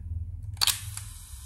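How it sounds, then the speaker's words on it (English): A Topcon Auto 100 35mm SLR film camera fires its leaf shutter once, a crisp close mechanical click followed by a quick second snap, alone over faint low background hum. "So the shutter opens and then opens inwards and then closes."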